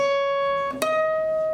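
Electric guitar from a solo: a single sustained note rings clearly and alone, then a quick pick attack shifts it to a slightly lower sustained pitch held to the end.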